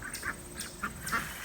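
Farm ducks kept with chickens give several short nasal quacks at close range, irregularly spaced over a low background rumble.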